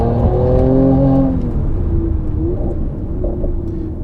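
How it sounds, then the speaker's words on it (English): A 2019 Mercedes-AMG C43 with its AMG performance exhaust accelerates hard from a standstill in Sport Plus mode, a loud, deep engine roar that climbs in pitch, drops briefly as it shifts, then pulls on with a rumbling drone. "so you can really hear that AMG performance exhaust in action"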